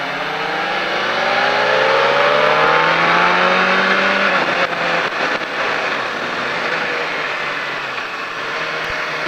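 A motorcycle on a race track sounds loud and close, its engine note climbing steadily under acceleration, then breaking off as it slows for a corner and pulling again.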